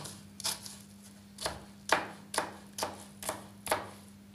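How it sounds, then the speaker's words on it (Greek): Knife chopping an onion into small dice on a board, a steady series of about eight crisp, close cuts at an even rhythm with no talking. "Και το κόβουμε σε μικρά κομματάκια."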